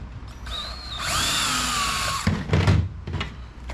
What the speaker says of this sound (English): It wants to slide this board down when we tighten the screw.